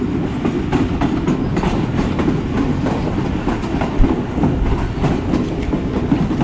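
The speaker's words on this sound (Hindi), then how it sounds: "सामने से आ रही है one up Khyber mail express" The One Up Khyber Mail Express rolls loud and close into a station platform, a dense rumble with steady clickety-clack of wheels over rail joints throughout.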